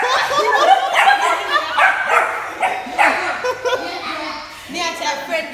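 A dog barks and yips in short repeated bursts close by, mixed with excited voices and someone talking over it throughout.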